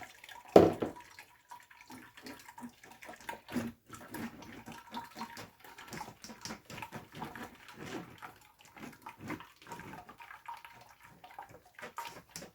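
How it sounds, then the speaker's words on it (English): Homemade hazelnut milk poured through a strainer makes a quiet, steady trickle and splash of liquid, with a brief louder clatter near the start. "We're gonna use our strainer first, and then our material, a thin piece of material to finish."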